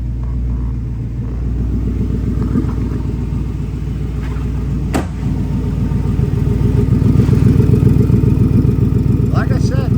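A 1965 Ford Daytona Factory Five exhaust idles with a steady, deep burbling rumble that grows slightly louder toward the end.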